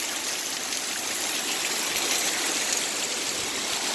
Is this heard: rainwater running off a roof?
yes